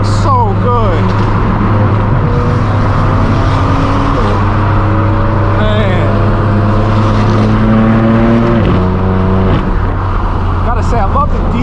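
Loud straight-piped BMW M4 F82 with a DCT gearbox, its exhaust droning steadily up close while the tone climbs and steps through gear changes, with revving bursts at the start and end and a harsh, raspy character throughout.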